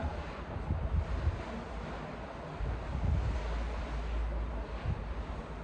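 Wind blows steadily across the microphone on farmland, a rough low rumble with gusty surges throughout and no voices.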